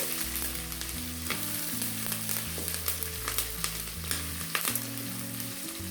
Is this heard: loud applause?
no